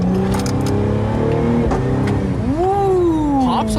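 A Cadillac CT5-V accelerates in second gear, its loud, close engine drone rising steadily in pitch.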